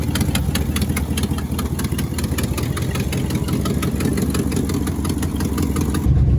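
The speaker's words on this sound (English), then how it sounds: "Got a bit of an exhaust leak over here, but that's kind of normal for these." A 1967 Ford F100 engine idles with an exhaust leak, a loud, close, steady mid-pitched rumble with a rapid ticking puff from the leak running evenly throughout.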